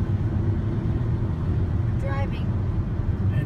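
Steady low rumble of a car driving on a road on the way to Estes Park, Colorado, heard from inside the vehicle, with brief faint voices partway through.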